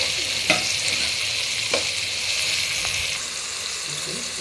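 Tomatoes stirred into a hot frying pan while cooking chicken sherwa, a steady loud sizzle with a few sharp spoon scrapes and clacks against the pan.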